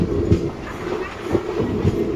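A passenger train on the line toward Jetalsar Junction rumbles along loudly from inside a carriage, with rhythmic wheel thumps on the rail joints recurring about every half second.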